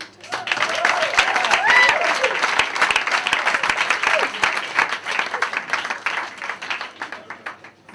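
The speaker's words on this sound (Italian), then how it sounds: "please, would you put some extra love and support into your applause for Tony Moore" A theatre audience applauds a comedian, Tony Moore, with dense, sustained clapping that starts abruptly, holds strong for several seconds, then slowly thins.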